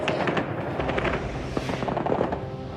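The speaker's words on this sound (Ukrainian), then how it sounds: "Смотрите, стріляють мирну демонстрацію" Rapid bursts of gunfire aimed at a peaceful demonstration in occupied Kherson crackle close and loud in a dense, irregular volley throughout, sharp cracks overlapping one another.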